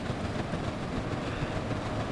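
The Flying Scotsman steam locomotive runs along the track with a steady, dense rumble and rhythmic clatter of wheels over rails, close and continuous.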